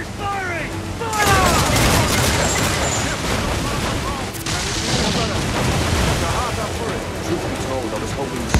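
Ship cannons booming in an Assassin's Creed 4 Black Flag naval battle, a heavy volley of overlapping blasts followed by rolling explosions and chaotic shouting under the barrage.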